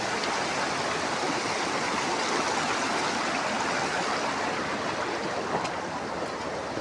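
A mountain river in Nepal rushes past as an even, close, full-bodied wash of flowing water.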